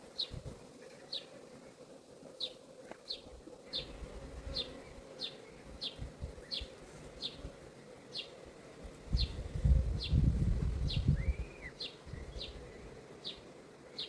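A low, continuous drone of honeybees buzzing at an open hive during frame inspection hums throughout and swells louder near the end, with a sharp high chirp repeating at a steady pace.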